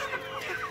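A young hen about three and a half months old gives a short, soft run of clucks, close and brief.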